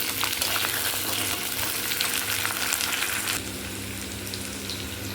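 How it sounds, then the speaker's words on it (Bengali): Vegetables including potato frying in oil with turmeric, a loud continuous sizzle with stirring scrapes up close, dropping to a softer, steadier fry for the final seconds. "এবার একটু হলুদ দেব দিয়ে এগুলোকে ভালো করে ভাজবো"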